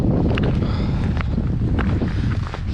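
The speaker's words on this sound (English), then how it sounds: "really quite windy out and cold." Strong wind outdoors on a cold hike, a loud continuous rumbling buffet across the microphone with gusty swells and faint scuffing sounds underneath.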